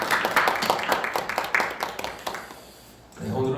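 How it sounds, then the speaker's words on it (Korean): A church congregation claps for students on Good Friday, a short burst of scattered applause that fades after a couple of seconds, followed by a low rumble and the start of a voice. "우리 박수하겠습니다."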